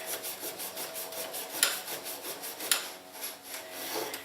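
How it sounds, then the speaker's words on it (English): Lawn mower rear wheel parts and bearing surfaces being scrubbed with a cleaning pad, a close, steady rasping rub in repeated back-and-forth strokes with two sharper scrapes, no talking. "So I'll just get my pad in here and just kind of clean this up a little bit."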